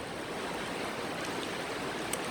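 Rain falling around a bridge mixed with a stream flowing beneath it, a continuous broad rushing wash of water, steady and close, with no voices.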